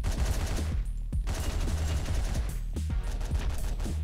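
Rapid gunfire from the video game Hotline Miami crackles in dense bursts, loud and continuous with short gaps between volleys.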